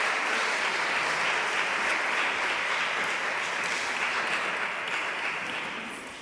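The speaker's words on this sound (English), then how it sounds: "I hope you'll join me in giving another well-deserved round of applause for these exceptional committees and leaders." Members at an annual meeting give sustained applause for committees and leaders, a thick, steady wall of clapping from a large audience that tapers slightly at the end.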